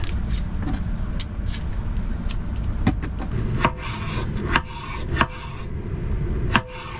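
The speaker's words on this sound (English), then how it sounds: "And we gotta peel and cut these boys." Potatoes being peeled and cut by hand while cooking in a camper van, heard as continuous close rasping scrapes with sharp knife taps and clicks scattered throughout, no one speaking.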